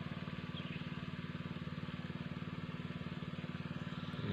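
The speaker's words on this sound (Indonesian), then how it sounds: "Ini menggunakan mesin air." A small engine driving a water pump that draws river water at a remote forest home runs steadily nearby, a loud, even putter with a fast regular pulse and no one speaking.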